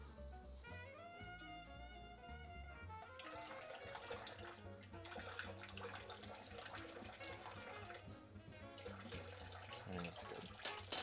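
Water runs from a kitchen tap into a container while a Greek meal is prepared, a steady splashing stream near the mic that starts partway through and continues to the end.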